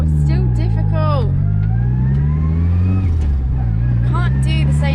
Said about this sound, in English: This car's also so noisy.